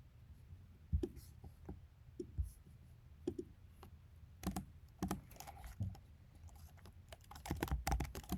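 Java code being typed on a computer keyboard, quiet irregular key clicks in short bursts and pauses, with a denser flurry of keystrokes toward the end.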